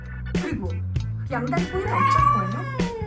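A cat meows in several drawn-out, wavering calls over about three seconds, loud and close, with no other sound.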